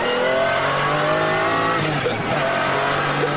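A McLaren F1 car accelerates hard, its engine a loud, sustained rising roar heard up close from start to finish.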